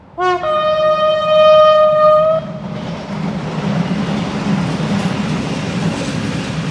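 A train horn blares with a long sustained tone, then fades into the steady rumble and clatter of a passing InterRegio passenger train with ex-Deutsche Bahn cars nearby in Romania.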